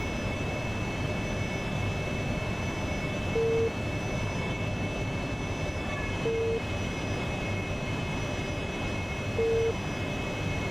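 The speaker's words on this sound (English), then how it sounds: "this is a very stick and rudder airplane" A jet-powered aircraft engine during a climb toward 10,000 feet, a constant loud drone with steady tonal whine heard from inside the plane, with soft periodic beeps about every three seconds and no speech.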